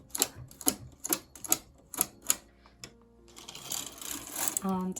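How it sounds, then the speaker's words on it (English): A knitting machine carriage knits one row, giving a series of sharp, evenly spaced mechanical clacks followed by a longer sliding, whirring rush with a brief tonal squeak at the end. "go ahead and knit one row and push that empty needle where the eyelet transfer is forward into working position"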